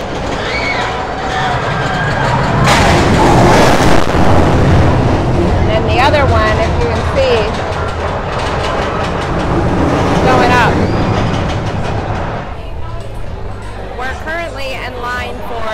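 The SheiKra roller coaster at Busch Gardens thunders down its drop, a loud, sustained roar of rushing track noise and rumbling cars with faint screams, as people talk nearby.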